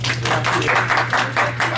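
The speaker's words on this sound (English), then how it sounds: "give yourselves a round of applause" An audience applauds in a steady, fairly close burst of hand claps with distinct individual slaps and a low hum beneath, no talking over it.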